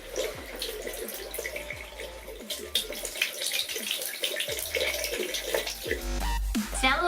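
Water runs steadily from a tap, splashing and gurgling into a basin nearby, with a few soft clinks and a louder rush near the end.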